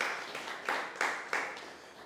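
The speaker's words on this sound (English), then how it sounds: "Please, let's give him a round of applause." Scattered hand claps from a small crowd at a World Photography Day gathering in Kaduna, a few sharper claps standing out over a soft, steady patter, fairly quiet and distant.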